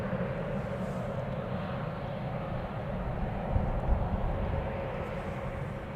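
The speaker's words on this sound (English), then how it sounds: "Malta Air is operating this flight. It's a 737 MAX 8." A three-year-old Malta Air Boeing 737 MAX 8 departing Amsterdam Schiphol Airport for Malaga: a steady broadband jet roar with a low rumble, moderately distant and sustained, rising slightly midway, no voices.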